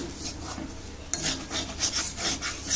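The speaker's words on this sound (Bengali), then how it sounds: "গোবিন্দভোগ চাল দিয়ে খুব ভালো করে নেড়ে নেব" Fried potato and Gobindobhog rice are stirred in a pan for potato payesh, a close scraping and rasping with rhythmic strokes that grow more pronounced in the second half.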